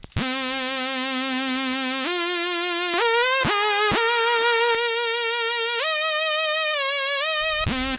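A single-oscillator saw wave synth in FL Studio with one voice and no effects plays a bright, buzzy lead alone, stepping through a few sustained pitches with brief gaps between notes.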